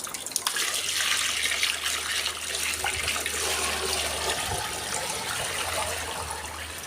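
Water poured steadily to soak cups, a continuous splashing, gurgling stream at close range with a low hum underneath and no talk.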